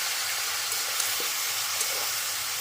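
Spices for a vegetarian fig curry (dumurer dalna) fry in a pan, giving a constant close hiss and sizzle with a few faint ticks and no talking.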